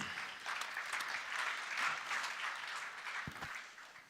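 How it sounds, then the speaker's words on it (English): A conference audience gives steady applause for a panel at MPE 2019, an even, moderately distant patter of clapping that fades slightly toward the end. "applause for our panel here"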